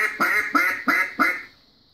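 A mallard duck call blown as a greeting call during a hunt: four loud, evenly spaced quacking notes close to the mic, fading into quiet at the end.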